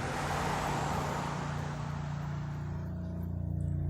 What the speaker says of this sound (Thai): ภาพนี้รถแมคโครก็รถเกตก็กำลังเกตถนนเกตพื้นที่กันใหญ่นะครับ